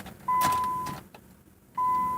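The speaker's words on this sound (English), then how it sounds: "It's making a beeping noise," Two steady electronic beeps from a locked car, each lasting under a second with a short pause between, fairly loud and close, no talking.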